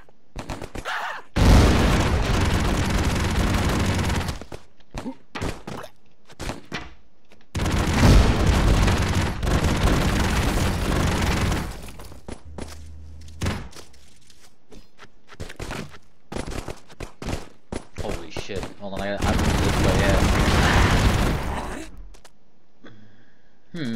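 Grenade explosions and gunfire in the Broforce video game: three long loud stretches of booming blasts and rapid shots, separated by shorter sharp bursts and brief pauses.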